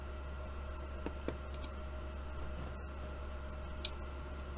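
A few quiet, sharp computer mouse clicks sound over a steady low electrical hum while working in DaVinci Resolve editing software.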